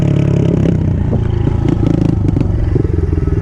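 Yamaha TTR110 motorcycle riding along, its small engine droning loudly and steadily close by, with rattles and scraping clatter over the continuous drone.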